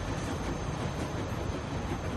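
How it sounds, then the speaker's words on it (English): A moving train in The Walking Dead game makes a steady, loud, broadband rumble that holds without break throughout. "I hope we're not on this train much longer."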